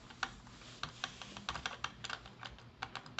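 Rapid keystrokes on a Perixx PERIDUO-714 wireless keyboard, an inexpensive model, with sharp clicky taps at an uneven typing pace, close and clear with no talking.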